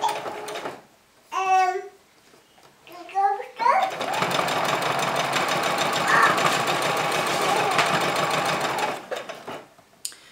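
A sewing machine runs a straight stitch down a seam in knit fabric. A long, steady, close mechanical whir lasts about six seconds, with a brief voice and a few short starts of the machine before it.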